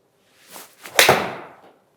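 A Callaway Rogue ST iron strikes a golf ball outdoors with a single crisp, loud crack at impact, preceded by faint swing swishes and followed by a brief airy whoosh as the ball flies off.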